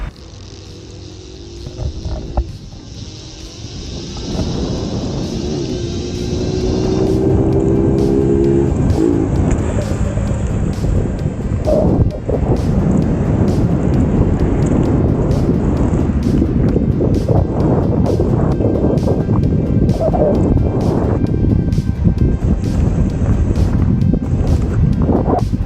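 Riding an electric inline skate prototype at full throttle on the medium setting, steady heavy wind roar buffeting the microphone, with a faint motor whine and scattered rolling clicks.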